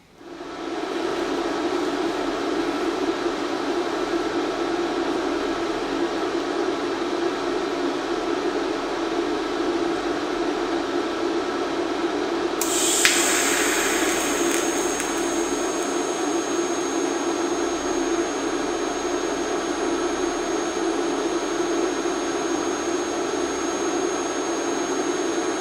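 A pipe flange is tack welded, with a constant broadband roar and hum throughout, joined midway by a sharper hissing onset that keeps on with a faint high whine, and no voices.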